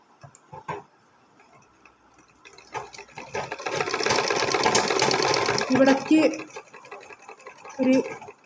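Sewing machine stitching the shoulder seam of a garment, running in a steady fast burst of several seconds with short stops and restarts, preceded by a few handling clicks and quiet talk.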